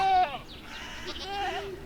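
Goats in Minecraft's HardRock TerraFirmaCraft modpack give two nasal, wavering bleats, one at the start and another about a second later. Both are close and fairly clear over a quiet background.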